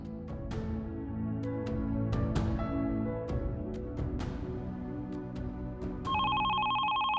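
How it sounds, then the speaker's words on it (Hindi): Inside a scene from a Pakistani TV drama, a telephone rings with repeated bright electronic trills. A steadier ringtone tone takes over near the end, and no one speaks over it. "ये फोन अब्बू का ना हो"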